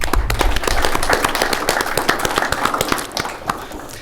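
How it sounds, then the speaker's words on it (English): Audience applause at a 2021 State of the City address: dense, sustained clapping from a large crowd in a hall, steady for a few seconds and then thinning out toward the end. "One more round of applause."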